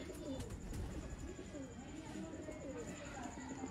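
Red-eyed pigeons of a breeding pair cooing softly in their loft, repeated low throaty coos under faint background hiss, fairly quiet and close.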